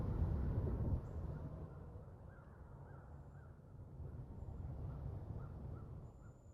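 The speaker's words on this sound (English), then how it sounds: "I could hear birds, a couple of different birds around in different areas." Birds call here and there around a lake over a faint, steady outdoor hum. Short chirps come from several spots at a distance, sparse and quiet, with no talking.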